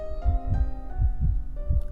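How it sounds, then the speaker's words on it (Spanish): A heartbeat sound effect under an audiobook reading: deep, steady double thumps repeat about every half second over a low droning hum, with no voice over it. "El movimiento tumultuoso del corazón y el rumor de sus latidos."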